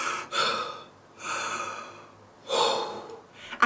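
A storyteller's voice imitates a fly gasping for air, with three long, breathy heaving gasps and a short sharp intake at the end, close and fairly loud.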